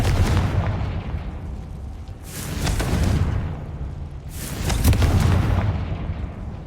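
Confringo fire spell blasting in the Hogwarts Legacy video game, heard as two loud, booming explosive bursts a couple of seconds apart over a steady rumbling background.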